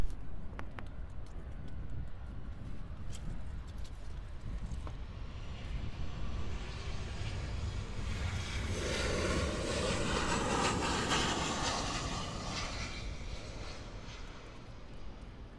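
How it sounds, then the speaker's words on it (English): An American Airlines Boeing 737-800 jet passes at Miami International Airport, its engine roar building gradually from a faint hum to a broad, loud rush and then easing slightly. "We're going to see just a 737-800 American"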